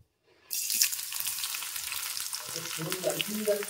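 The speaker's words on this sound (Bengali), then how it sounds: "এখানে তেল গরম হয়ে গেছে, তেলের মধ্যে প্রথমেই দিয়ে দেবো কুচানো পেঁয়াজগুলো।" Chopped onions drop into hot oil and burst into a loud, steady sizzle that carries on with the crackle of frying. A few soft clinks of stirring come through near the end. No one speaks.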